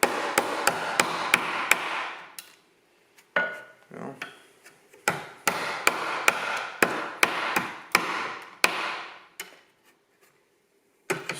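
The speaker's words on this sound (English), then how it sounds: "I'm just going to use a chisel and a hammer, and we'll see what we get" Sharp, ringing strikes of a hammer driving a chisel into an epoxy-primed metal surface, delivered in quick clusters of close, loud taps with short pauses between bursts; no talking.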